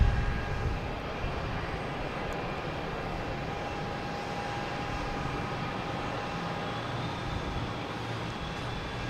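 Lufthansa Airbus A380 passing in review at Boston Logan Airport, a steady, fairly loud broadband jet roar holding level throughout with a faint whine above, no talk.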